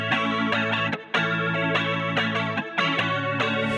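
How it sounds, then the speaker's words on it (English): Guitar run through a Disco Leslie effect plays sustained, shimmering chords with a wobbling chorus-like modulation, loud and continuous apart from two short gaps between phrases. "This is a Disco Leslie."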